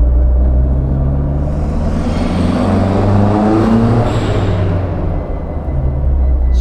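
A restomod Lancia Delta Integrale, the 90s rally hot hatch, pulls hard with a loud, close engine roar, a prominent turbo whoosh and a whirring differential whine layered over the continuous rumble.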